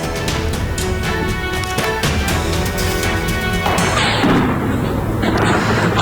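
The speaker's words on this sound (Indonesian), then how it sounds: "Terdengar suara rentetan tembakan Zionis Israel di pemukiman warga." Rapid bursts of gunfire ring out across a residential area in southern Lebanon, sharp repeated cracks in quick volleys for several seconds before giving way to a duller rumbling boom.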